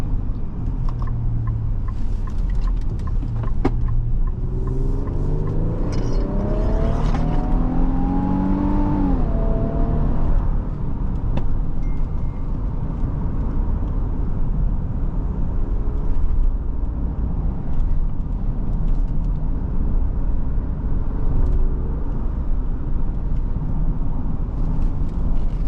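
A 2025 Infiniti QX80 drives on back roads, a steady interior road and engine hum with a rising engine tone as it accelerates early on, then a constant smooth cabin drone.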